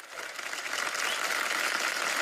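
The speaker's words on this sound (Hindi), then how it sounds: "इन सब के लिए तालियां होनी चाहिए" Studio audience applause on a comedy talk show, dense clapping that swells in over the first moment and then holds steady and fairly bright.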